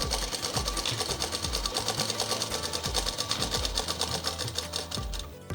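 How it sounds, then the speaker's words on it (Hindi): Domestic sewing machine stitching a double seam along a folded, gathered edge of a plain girl's frock, running steadily and continuously at close range with a fast rhythmic needle chatter, briefly slowing at the very end. "इसे फोल्ड करेंगे और इसकी डबल सिलाई उसी सिलाई पे दे देंगे"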